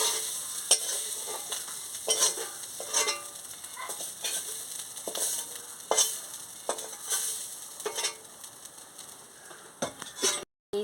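Drumstick (sajna) stems fry in a pan with a soft continuous sizzle, broken by repeated scraping and clinking strokes of a stirring spatula at an irregular pace, close and alone, ending in a sharp clatter.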